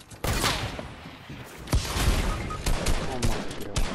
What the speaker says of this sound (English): I got an SMG for you